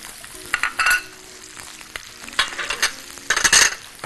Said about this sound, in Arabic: انزل عندي ببصلية حلوه معاها فلفل على طول تشويحتين